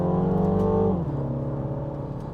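A 2017 MINI Cooper S Clubman in manual mode drops through a couple of downshifts, its engine tone stepping up sharply in pitch before settling into a steady, close, continuous drone with no talk over it.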